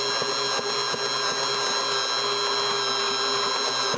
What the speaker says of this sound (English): so I'm going to continue mixing